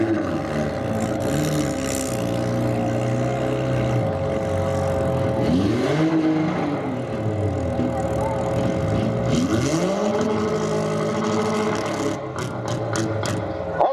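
Several demolition derby car engines roar and rev loudly, rising and falling in pitch in repeated surges, with a continuous mechanical drone underneath.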